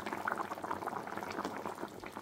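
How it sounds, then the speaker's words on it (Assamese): Fish curry boils steadily in a pot, a dense, continuous bubbling and popping that stays close and fairly loud throughout, with no voices. "পূৰা ধুনীয়াকৈ উতলি আছে"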